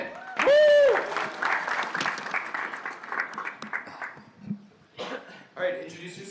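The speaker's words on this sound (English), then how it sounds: "Round of applause for Transit!" A pitch night crowd in San Francisco applauds and cheers a team called Transit; a loud whoop rises over clapping and voices, fading into a lull before more clapping resumes near the end.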